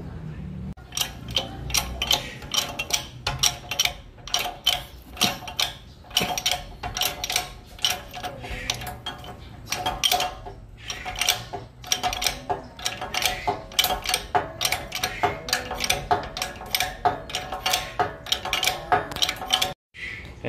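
A press machine forces a 13-tooth TTGR gear onto a Mio i 125 scooter part, producing rapid irregular metallic clicks and clanks, loud and close, with a brief pause near the end.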